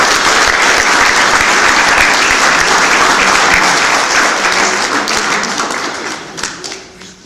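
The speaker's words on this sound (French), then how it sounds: "Allez, on vous applaudit." An audience applauds at a formal French gathering, a dense, loud wash of clapping that holds steady for several seconds and then thins and fades near the end.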